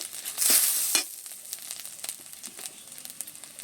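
Spices with chilli and cumin powder sauté in a pan, a sharp sizzle flaring for half a second, then scattered stirring scrapes and softer crackle.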